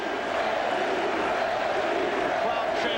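A basketball arena crowd chants for Reggie Miller during a Knicks versus Pacers playoff game, a dense continuous roar of massed voices that fills the space evenly.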